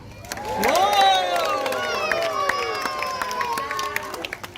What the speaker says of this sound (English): you want to clap and cheer at the same time. So let's hear that.